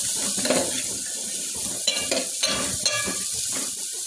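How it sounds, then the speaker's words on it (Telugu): Food is stirred and mixed in a pan for a brown radish seed chaat, scraping and clinking in uneven strokes over a low sizzle, close and without talk. "ఇది బాగా మిక్స్ చేసుకుందాం"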